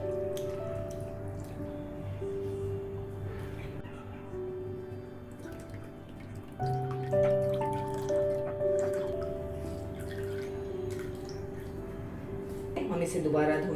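Cold water pouring and dripping over chhena in a kitchen while making rasgulla, a steady trickle with drips and splashes under continuous talking.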